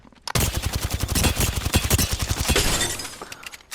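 Rapid automatic fire from a Volt SMG in Apex Legends, a dense, fast burst of close, loud shots lasting about three seconds, then a brief tail as the firing stops.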